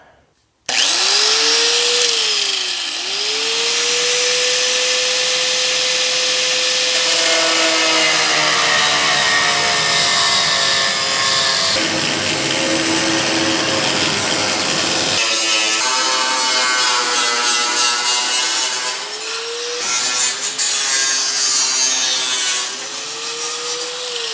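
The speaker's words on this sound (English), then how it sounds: "So let me grab the cutoff wheel, and we'll get to cutting." An abrasive cutoff wheel slices through the sheet metal of a Pontiac GTO wheel well during a restomod, giving a loud, steady high whine with shifting pitch as the disc bites in, running continuously for most of the span.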